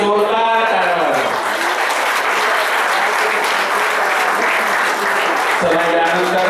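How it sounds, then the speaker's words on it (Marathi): A crowd at a school reunion gives the core team a burst of loud, sustained clapping that stays dense throughout, with a voice speaking over it near the start and again near the end. "या कोर टीमला एकदा जोरदार टाळ्या वाजवा"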